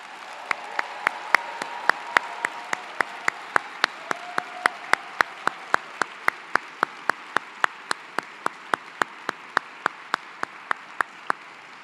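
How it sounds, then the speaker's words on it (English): Steady audience applause at an engineering graduation recognition ceremony, a continuous bed of clapping punctuated by evenly spaced sharp loud claps throughout. "Applause, please."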